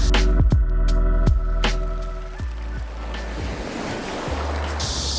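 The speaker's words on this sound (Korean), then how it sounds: "검은 몽돌 해안이라서 파도와 이 조약돌들이 합창하는 이 소리가 참 재밌습니다" Waves roll over a black pebble beach at Yesong-ri on Bogildo, a broad, steady wash swelling louder with gritty stone rattle, following a few sharp knocks at the start.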